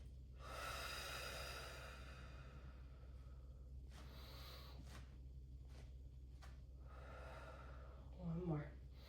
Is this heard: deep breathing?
yes